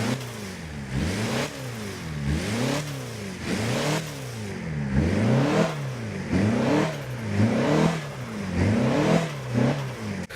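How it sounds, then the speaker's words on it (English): An SUV engine in Forza 7 revs repeatedly, rising and falling in steady swells about every second, loud and close with no talking. "But the SUV sounds great."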